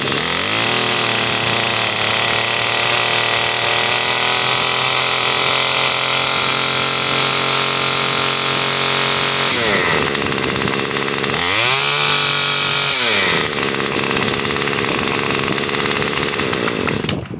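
A Remington RM2570 gas string trimmer, after a carburetor and fuel line repair, runs loud and close with a steady buzzing two-stroke drone and two brief throttle dips and recoveries midway.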